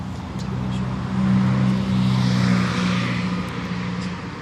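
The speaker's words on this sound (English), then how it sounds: "I know I'm right next to a road and there's traffic" Car traffic hums along a nearby road by the roadside near Chimney Rock and Lake Lure, a steady engine drone swelling as a vehicle passes close, with no talk over it.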